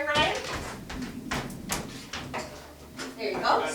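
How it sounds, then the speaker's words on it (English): A door is opened indoors, producing a few close clicks, knocks and a soft latch rattle amid movement, with people talking over it. "let me open the door"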